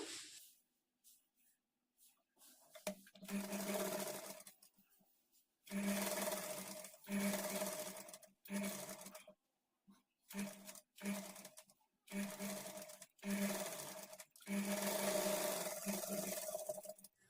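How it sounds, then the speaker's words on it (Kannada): Sewing machine stitching the lining of a princess-cut padded blouse, running in repeated bursts of steady whirring broken by short pauses, close and moderately loud. "ಈ ಥರ ಸ್ಟಿಚ್ ಮಾಡಿಕೊಂಡು ಇದ್ರ ಮೇಲೆ ಡಬಲ್ ಸ್ಟಿಚ್ ಹಾಕ್ಕೊಳ್ಳಿ"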